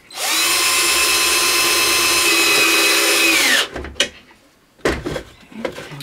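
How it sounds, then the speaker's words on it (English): A power drill drives a screw into stacked plastic flower pots for a planter, one loud continuous whir lasting over three seconds that winds down, followed by scattered clunks and plastic handling close by. "We're going to put screws from the top down to that lemonade thing to hold it sturdy."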